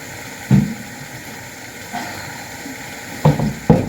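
Onion and potato curry frying in a pan, a soft steady sizzle with a few louder stirring scrapes and clatters near the start and end, no talk.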